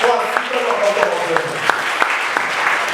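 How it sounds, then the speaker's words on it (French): A congregation at a fasting and prayer service applauds, with rhythmic clapping under voices and sustained tones, the claps landing in a fairly regular beat. "Applaudis le roi des rois."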